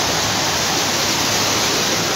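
Heavy rain pours down with rushing floodwater during a storm in Cancún, making a loud, dense, continuous hiss with no break.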